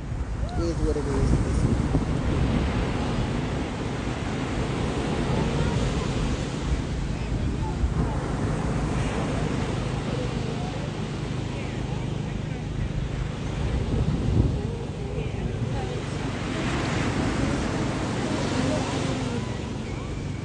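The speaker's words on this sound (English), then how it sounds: "we're on the beach" Waves and wind on a beach, a continuous wash of surf with gusts buffeting the microphone, while people talk over it.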